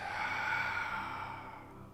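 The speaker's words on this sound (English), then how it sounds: "Open mouth, exhale, shoulders melt" A single deep exhale through an open mouth during yoga breathing, a close, airy sigh that fades gradually over about two seconds, with no talking.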